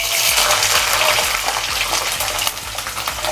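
Garlic cloves drop into hot oil in a pan over a medium flame for Tamil garlic kulambu. A loud, continuous hiss and sizzle runs throughout, close and unbroken.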